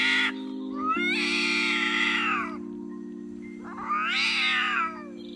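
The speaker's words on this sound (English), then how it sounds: "Cats are known for their various vocalizations, and during a fight, they can produce a range of sounds" Two long, drawn-out cat yowls rise and fall during a cat fight, loud and close, separated by a pause, over a constant low electrical hum.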